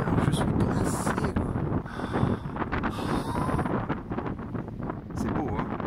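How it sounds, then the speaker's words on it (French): Strong cold February wind buffets the microphone on a stormy Finnish beach, a loud continuous roaring rumble with gusty surges throughout, and no clear voice over it. "Il y a un vent de fou."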